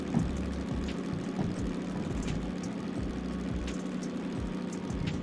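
A DM3 diesel locomotive in the Derail Valley video game, its engine droning steadily with low, throbbing harmonics as the throttle is opened and it revs under load.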